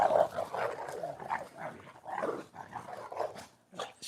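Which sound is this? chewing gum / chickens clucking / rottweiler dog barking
rottweiler dog barking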